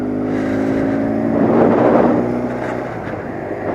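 A 1978 BMW R 80/7 motorcycle accelerating through its gears on the road after a carburettor rebuild, with a steady loud engine drone and humming tone that swells in the middle and then eases back, with no talk over it.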